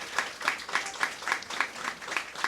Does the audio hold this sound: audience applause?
yes